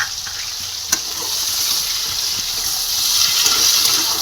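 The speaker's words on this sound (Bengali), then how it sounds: "আমি সামান্য একটু হলুদ গুঁড়ো আর একটু নুন দিয়ে দেবো, দুটো ভালো করে একটু ভেজে নেব।" Pointed gourd and pumpkin fry with turmeric and salt, making a bright, continuous sizzle that swells slightly toward the end, with a sharp utensil knock near the start.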